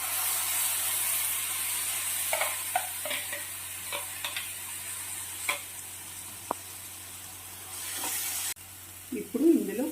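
Tomatoes and curry leaves fry in a pan with a steady, close hiss, broken by soft stirring clatters and scrapes; a brief voice comes in near the end.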